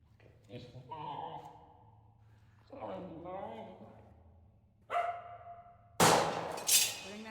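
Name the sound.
dog barking in the video game Go Home Annie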